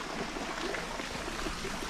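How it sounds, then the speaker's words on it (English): A water fountain at the back of Neuschwanstein Castle gushes steadily outdoors, a continuous splashing hiss with no break and no voices over it. "at the back of Neuschwanstein Castle, we got this sick water fountain with all the lines"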